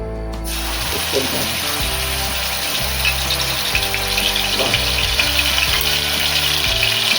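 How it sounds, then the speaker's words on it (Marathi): Ginger garlic paste frying in three spoons of hot oil, steady close sizzle and hiss with faint clicks and scrapes running throughout. "त्यामध्ये आपण आलं लसूणची पेस्ट टाकून घेतोय."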